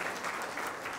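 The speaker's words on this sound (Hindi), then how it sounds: "एक बार जोरदार तालियों से इस्तकबाल करें उनका इस्तकबाल करें।" Applause from an audience at a bakers' association general body meeting, a soft, steady patter of clapping heard briefly and at a moderate distance.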